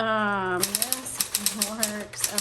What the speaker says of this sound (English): Awesome typing machine.